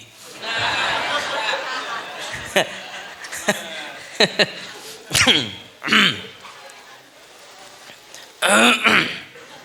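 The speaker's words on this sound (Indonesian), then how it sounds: "Ini ano batuk na babini." A woman coughs and clears her throat in a few short, separate bursts during a religious lecture at a large gathering, with quiet murmuring and faint voices between the bursts.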